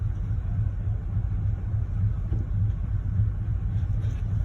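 Idling engine of a 10th-generation Ford F150 pickup truck as it is shifted into gear, a steady low rumbling drone that stays even and close with no talking.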